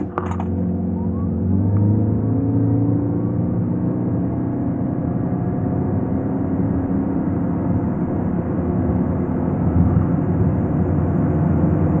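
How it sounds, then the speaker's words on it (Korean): A fourth-generation Toyota Prius hybrid with an eCVT pulls away from a standstill under full acceleration, giving a steady, loud low rumble of engine and road noise that holds for about twelve seconds with no talking. "이번에는 이와 같은 파워트레인을 바탕으로 한 발진 가속 성능에 대해서 한번 알아볼까요?"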